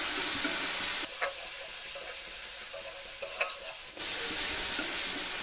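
Onion and garlic sauté in a pan with turmeric and salt, a steady sizzle that drops to a quieter simmer midway with a couple of spatula knocks, then swells back up.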